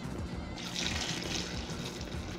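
About a litre of water poured into a pot of Venezuelan chicken sancocho with potatoes, a steady close splashing gush lasting a couple of seconds.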